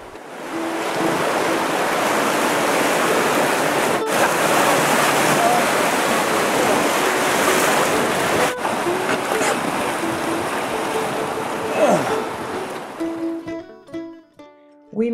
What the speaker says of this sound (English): we entered the Class 4 Tyee Rapids